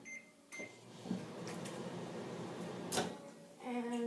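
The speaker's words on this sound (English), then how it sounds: "then you put it in the microwave for" A quiet, steady hum of a microwave oven running, with a couple of soft clicks and a brief tone near the end.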